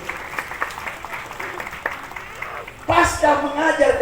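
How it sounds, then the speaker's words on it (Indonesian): At a church Easter service, a voice speaks briefly before the congregation breaks into loud, sustained applause. "Berikan tepuk tangan yang meriah buat Tuhan."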